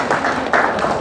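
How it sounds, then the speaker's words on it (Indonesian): Brief burst of clapping from a church audience during an Indonesian sermon, close and fairly loud, with a few distinct claps standing out in a second-long moment. "tepuk tangan lagi buat Tuhan"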